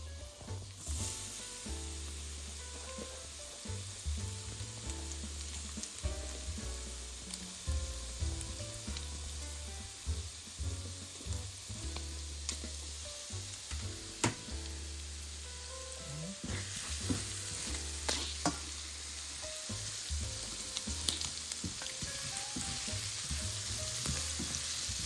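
Bitter gourd (ampalaya) sautéing in a pan, a steady loud sizzle and crackle with scattered stirring scrapes throughout, running without pause and with no talking.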